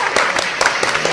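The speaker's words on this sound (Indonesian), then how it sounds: "tepuk tangan." Brief burst of clapping from a small audience at a business talk, loud and close, with a few distinct sharp claps over a busy backdrop.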